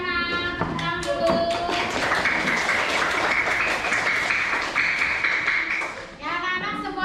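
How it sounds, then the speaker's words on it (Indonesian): Children clap their hands together in a classroom, with lively, fairly loud applause in rough unison under voices and singing that rise and fall throughout. "Tepuk tangan dulu."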